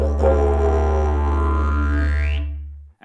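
A didgeridoo played while the player voices into it, adding a sung tone over the steady low drone with a rising vocal sweep near the end; loud, close and solo.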